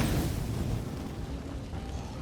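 Firecrackers thrown in State of Decay 2 go off as a dense, rumbling burst of crackling pops, loud at first and then settling into a sustained noisy wash.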